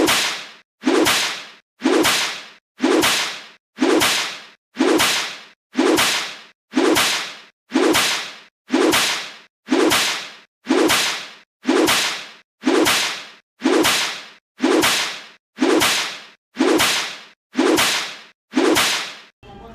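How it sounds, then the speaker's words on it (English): Twenty sharp whip cracks sound one after another at an even pace of about one per second, each a loud snap with a short swishing tail, alone with no talk. "Play 20 whip crack sound effects sequentially right now."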